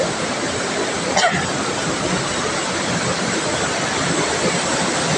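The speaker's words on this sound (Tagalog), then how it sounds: "Eh, since ngayon, malakas ang agos" A strong river current at Wawa Dam rushes in a loud, continuous broadband roar, close and steady throughout with a brief faint disturbance near the start.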